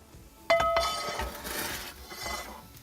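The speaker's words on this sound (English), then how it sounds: "we're going to put a pan in the oven to warm up ready for the fish" A large cast iron pan sliding into a wood-fired oven gives a sudden metallic clank with a brief ringing tone, followed by scraping and shuffling against the oven floor, close and without talk.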